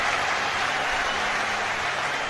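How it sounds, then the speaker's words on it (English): Football stadium crowd at a Chelsea–Tottenham London derby roaring and applauding, a dense sustained wash of cheering from thousands of fans, loud and even throughout with no clear voice on top. "The biggest cheer of the night goes up when Kai Havertz's name is mentioned."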